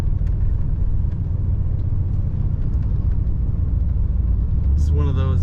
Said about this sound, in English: This car started right up and purred great.